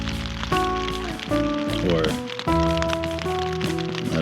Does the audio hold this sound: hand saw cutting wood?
no